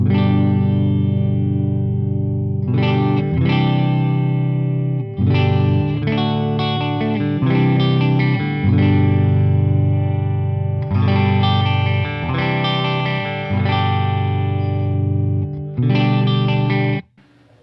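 Overdriven electric guitar chords through a tube amplifier ring out loud and sustained, strummed in repeated bursts with brief gaps between phrases and no talking.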